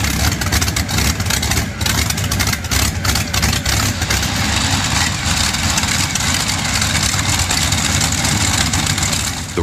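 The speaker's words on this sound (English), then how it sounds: "The roar of its engine, akin to that of a heavy-duty machine, demands attention wherever it goes." A pre-WWII Ranger Phi 12 V12 engine in an 8-ton vehicle runs loud and close, a dense, steady roar with a rough low rumble throughout and no voices.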